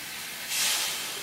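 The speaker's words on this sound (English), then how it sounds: "so I get a little steam around it." Water splashed into a hot pan flashes into a steady, loud hiss of steam that swells briefly midway and continues without speech.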